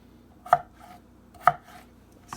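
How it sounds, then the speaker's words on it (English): Potatoes being chopped with a knife on a board, two crisp close thuds about a second apart and a third starting at the end, with quiet room hum between. "Yeah, just chop them up."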